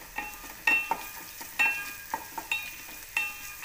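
Red chillies and tamarind frying in a pan: a soft, steady sizzle with a spoon stirring, its metal clinking against the pan at irregular intervals, close and fairly quiet.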